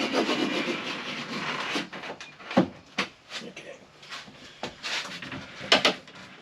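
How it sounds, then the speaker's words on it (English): A knife cuts through silicone sealant along the edge of an RV shower door, giving soft, close scraping and slicing sounds in uneven bursts with faint taps between them. "I'm going to run a knife all the way down here"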